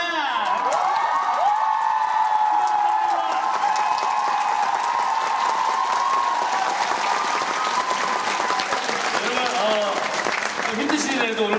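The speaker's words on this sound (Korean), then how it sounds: "오늘 박수를 좀 많이 쳐야 돼요" A theater audience applauds with cheers and whoops during the curtain call of the musical FAME. The applause is loud, dense and steady throughout, with voices and cheering layered over it.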